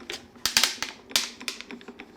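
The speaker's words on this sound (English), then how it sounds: "That's just the die going into the cutting plate. Perfectly normal sound." A die-cutting craft machine pressing a die into its cutting plate, giving a close run of sharp clicks and crackles at an uneven rhythm, alone with no talking.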